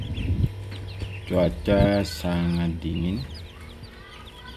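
Young Muscovy ducklings peeping in short high-pitched bursts close by, with a few louder calls in a row and someone speaking over them.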